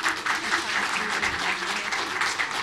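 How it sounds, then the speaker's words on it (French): An audience at a French stroke symposium claps in a dense, steady round of applause, loud and sustained throughout, with no pauses and no voices standing out. "on applaudit maintenant"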